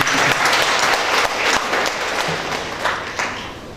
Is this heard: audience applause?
yes